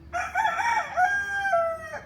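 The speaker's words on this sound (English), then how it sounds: "Those are the chickens." A rooster crows once, a long loud cock-a-doodle-doo with a wavering middle and a drawn-out final note, close by and heard alone.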